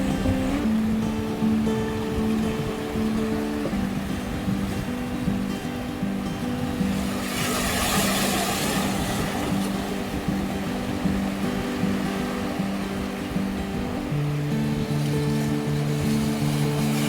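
Water washes in and out at Digha Mohona, a steady broad rush of surf close by, overlaid by a continuous low engine drone with shifting tones.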